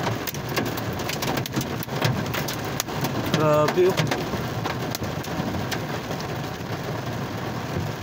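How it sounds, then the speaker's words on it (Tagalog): Heavy rain with hail pours down in Riyadh, a dense steady roar filling the scene while a person speaks over it. "biglang bumuhos ang lakas ng ulan kasamang ilo."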